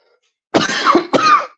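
A single harsh cough, close and loud, bursting out in two quick rough spasms with no talking around it.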